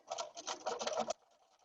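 A sewing machine runs a quarter-inch quilt seam in one short burst of rapid, steady stitching lasting about a second, then stops, leaving a faint quiet tail.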